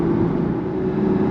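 A Porsche 981 Spyder's 3.8-litre flat-six hums in a steady, loud drone, held at constant revs through the short stretch with no talking.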